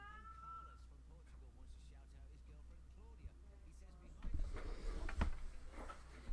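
A pet cat gives a short, faint meow near the start, close but quiet, followed by someone talking and some louder rustling toward the end.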